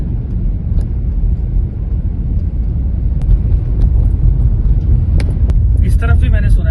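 A truck engine labors uphill on a mountain road near Manali, a low continuous rumble heard from a moving car, with a person talking over it.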